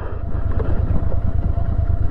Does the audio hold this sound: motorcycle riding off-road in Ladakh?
yes